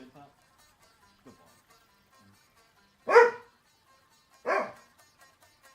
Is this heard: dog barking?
yes